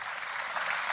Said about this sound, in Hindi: एक जोरदार तालियां आप हमारे प्रोड्यूसर को भी दे दीजिए